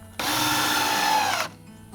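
A power drill drives a screw into the wall of a shed being converted into a tiny house, giving one steady, close, high whirring burst of a little over a second that cuts off abruptly.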